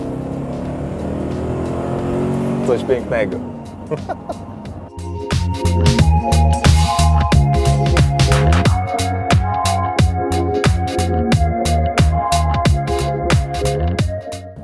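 A second-generation Cadillac Escalade engine idles and then revs, loud and close, with rough rhythmic firing pulses and rising and falling pitch, while a voice comments briefly.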